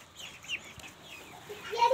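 Fancy hens cluck in a short, soft burst of a few nearby calls, with a slightly louder flurry at the end.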